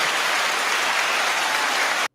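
Canned applause from a soundboard applause button, a loud, even burst of crowd clapping that holds steady for two seconds and then cuts off abruptly.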